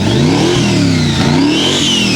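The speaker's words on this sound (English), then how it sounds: "Keep it idling, all right. Rev up on it, Andy." A loud hot rod engine revs up close at a classic car dealership, its pitch rising and falling in repeated throaty surges with no pause.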